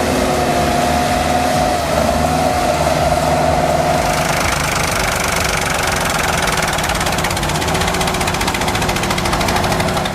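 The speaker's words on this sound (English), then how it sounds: "Watch as this powerhouse tractor digs in, chains tight, wheels churning, pulling a fully loaded truck out of a sticky nightmare." Heavy tractor engine laboring under load while pulling a fully loaded truck out of sticky mud with chains, a loud, continuous diesel drone with knocking rumble and no pauses.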